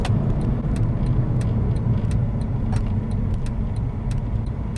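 A Porsche 911 Carrera S engine hums steadily under road noise, with irregular sharp crackles and pops scattered throughout as the throttle is lifted on overrun.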